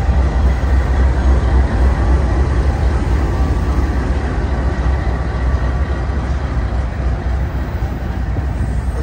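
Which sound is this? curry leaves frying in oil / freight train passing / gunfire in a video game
freight train passing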